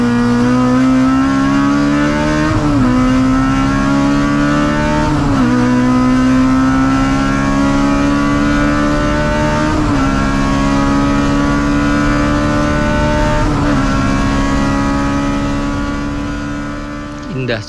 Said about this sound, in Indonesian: Indah sekali suara dari Honda Civic Type R ini.